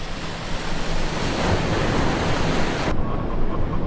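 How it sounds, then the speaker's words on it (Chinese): Sea waves wash against a cliffside shore in a steady, loud roar of surf with wind buffeting the microphone, constant and unbroken, with no voices. "海浪的声音"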